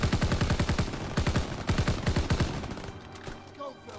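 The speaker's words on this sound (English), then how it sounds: "We start shooting them." Rapid bursts of automatic gunfire from a World War II video game, loud and dense for about three seconds before trailing off into quieter battle ambience.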